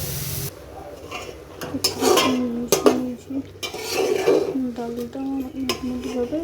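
A spatula scrapes and stirs khichuri made with leftover rice in a metal pan, giving repeated clanks and scrapes at a close, irregular rhythm with a soft sizzle underneath.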